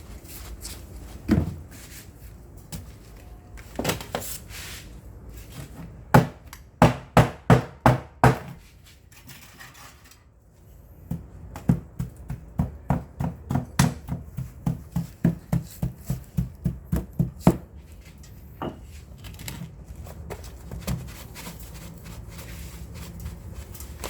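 Mortar is chipped off worm-shaped 20×20 concrete paving bricks, producing loud, close, sharp knocks in fast rhythmic runs with short pauses between them, alone and without talking.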